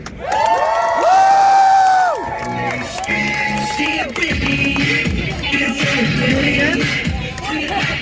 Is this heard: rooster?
no